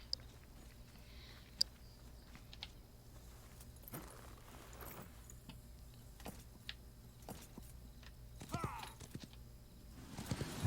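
A horse's hooves clip-clop in the PvP western game New Frontier, scattered quiet thuds and clicks spread over a low ambient hum, faint and irregular rather than a steady gait.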